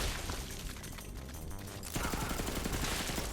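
Rapid gunfire from an infinite-ammo pistol in Borderlands 3, a dense noisy burst of shots that gives way to a fast, evenly spaced string of rattling reports.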